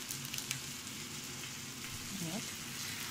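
Chicken pieces sizzle in a frying pan with a steady, close crackling hiss and a few brief clinks, no talking.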